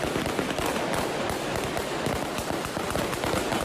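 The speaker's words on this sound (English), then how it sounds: "This is the moment Taliban officials fired gunshots into the air" Dense crackling bursts of rapid sharp pops, gunshots fired into the air at a women's protest in Kabul, Afghanistan, loud and continuous over a noisy outdoor background.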